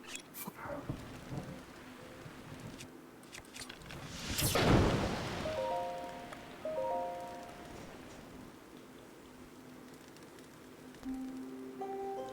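Steady rain hisses across the landscape of The Legend of Zelda: Breath of the Wild, with a loud swell of thunder rumbling through the downpour near the middle and soft game tones chiming afterward.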